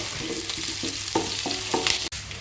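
Cumin seeds and curry leaves fry in a hot pan while a spoon stirs them, giving a steady close sizzle broken by several soft scraping strokes and one sharp clack near the end.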